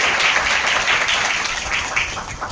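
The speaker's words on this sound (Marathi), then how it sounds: "सगळ्यांनी टाळ्या वाजवायच्या जोरात एकदा" An audience claps after a dance performance at a birthday celebration, a dense, even burst of applause that holds steady and fades slightly toward the end.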